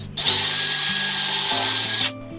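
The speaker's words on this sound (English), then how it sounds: "The important thing to remember when drilling these holes is to try and keep the drill at a true 90-degree angle to the beam." A power drill bores a bolt hole through a wooden beam for a DIY studio shed, one steady loud whining run of about two seconds with the motor pitch shifting as the bit bites, close by.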